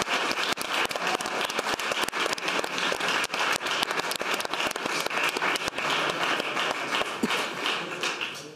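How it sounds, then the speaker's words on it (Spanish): An audience applauds invited guests at a Reformation Day event in Spain, a dense, sustained patter of clapping hands at steady volume with no speech over it. "Un aplauso, chicos, a ellos que puedan venir"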